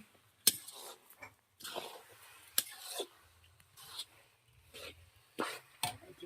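A spoon scrapes and stirs intermittently in a pan as sugar is mixed into bottle gourd halwa cooked with reduced milk, giving soft, quiet rubbing strokes separated by short pauses.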